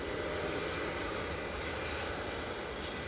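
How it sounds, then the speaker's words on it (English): A Scandinavian Airlines Airbus A320 in old livery comes in to land at Manchester Airport, a distant, steady and fairly faint jet engine rumble with no talk. "A320 Classic that's coming in"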